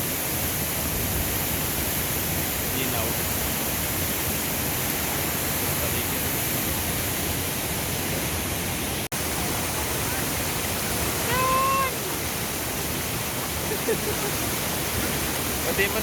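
Sudden floodwater flows by near a home in the Philippines, a constant broadband rush like a small waterfall, with brief faint voices or calls rising above the steady roar toward the end.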